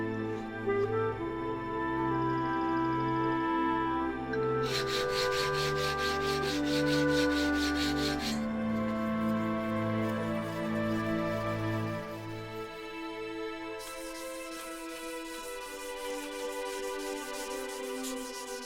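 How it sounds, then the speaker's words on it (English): A crucible steel wootz seax blade is hand-polished with stones, making long, steady rubbing and scraping strokes in a continuous back-and-forth rhythm, fairly close and clear, with no speech. "Using the stones, I can remove all scratches that were made by the belt sander."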